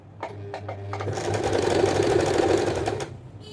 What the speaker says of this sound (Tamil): அப்படியே ஓரம் ஃபுல்லாக அப்படியே ஒரு 1/2 இன்ச் அளவுக்கு நம்ம தையல் கொடுக்கணும்